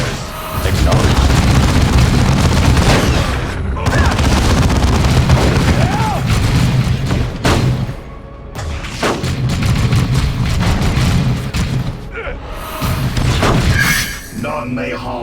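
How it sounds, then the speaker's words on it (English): Heavy booming gunfire and explosions from Eldar forces in a Dawn of War II battle, loud and nearly continuous in long bursts with brief lulls, under shouted voices. "The Eldar have opened"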